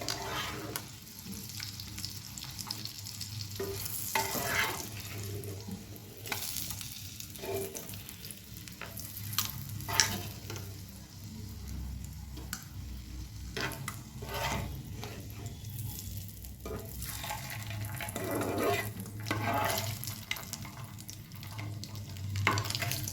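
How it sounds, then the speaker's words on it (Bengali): Eggs fry in a pan with a soft, continuous sizzle and occasional sharper crackles, steady and moderately close with no talking. "সবগুলি ডিমই মোটামুটি ফ্রাই হয়ে গেছে"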